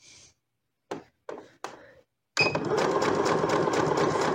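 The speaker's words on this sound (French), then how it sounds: "je n'ai plus qu'à venir tranquillement coudre" A home sewing machine stitches leggings fabric: a few short bursts of motor whir come first, then after a pause a loud, steady run of rapid, even stitching, close up and with no voices.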